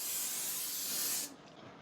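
Cooking spray hisses steadily onto an 8x8 square baking pan, one sustained close burst of about a second and a quarter that cuts off abruptly, leaving a quiet room.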